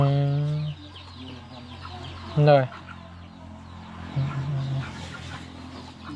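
Farm ducks call in a few short, clustered squawks, with one louder burst near the middle, while people talk nearby throughout.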